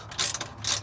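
A ratchet wrench clicks rapidly in two quick bursts while tightening an exhaust clamp on a Henko Y-pipe fitted to a Nissan 350Z, close and crisp with no speech.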